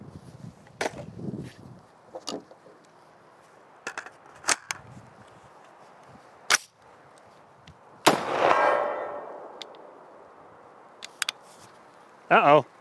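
Rifle shots from a Ruger SFAR firing Aguila rounds outdoors, sharp loud cracks spaced irregularly with pauses, one followed by a longer ringing tail, and people speaking in between.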